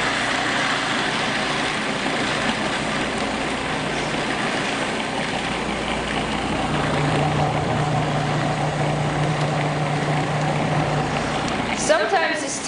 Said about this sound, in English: You just put those ingredients in the food processor and take it for a spin.